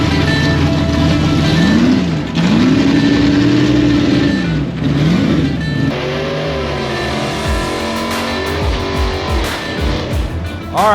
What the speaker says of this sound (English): 327 cubic inches of screaming Coyote motor with a supercharger under the hood